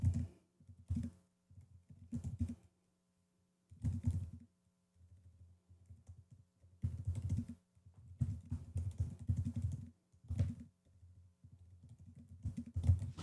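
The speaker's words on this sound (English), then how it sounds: "So you're typing in" Someone types on a computer keyboard close by, in bursts of rapid clicking keystrokes separated by short pauses.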